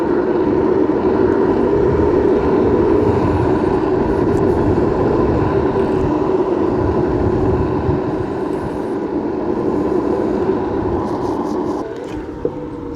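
Antic one-wheel electric bike with a 75V hypercore hub motor held at full throttle while running in a low-power limp mode, a loud continuous droning whine with steady rushing wind, easing slightly near the end.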